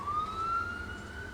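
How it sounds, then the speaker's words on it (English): A wailing siren sweeps slowly upward at moderate distance, steady and unbroken over a low traffic rumble. "And then more sirens."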